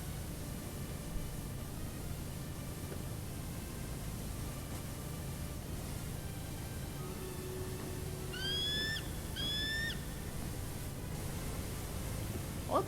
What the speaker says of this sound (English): What the hell kind of bird is that that's so loud?